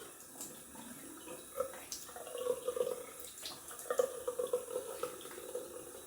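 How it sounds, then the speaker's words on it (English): Water runs from a tap while someone rinses off after a wet shave, with a steady splashing flow broken by irregular louder splashes and drips close by. "Just rinsing off."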